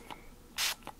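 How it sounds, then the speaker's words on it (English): Water is sprayed onto rubber stamps coated in acrylic paint: faint spray-bottle trigger clicks around a single short, breathy hiss of mist, quiet and close. "I just spray a lot of water on it and set it aside until I can get over to clean it off"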